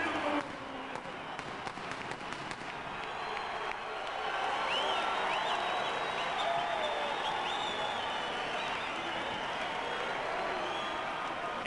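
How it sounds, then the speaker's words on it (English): A boxing arena crowd roars and cheers as a fighter enters the ring, a broad, distant wash of noise that grows louder partway through, beneath a commentator's voice. "explosive eruption in the arena as Vargas emerges into the ring. His deeply loyal and boisterous crowd of followers expressing their approval"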